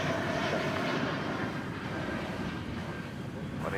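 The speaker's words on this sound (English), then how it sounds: "we're going to take a look at American Flight 2769 arriving from Seattle" An American Airlines jet arriving at DFW Airport from Seattle, a steady, continuous broadband engine roar that stays loud and even for the whole stretch, with faint radio-like voices mixed underneath.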